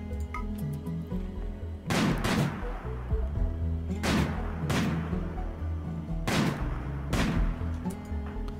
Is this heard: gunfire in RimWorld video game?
yes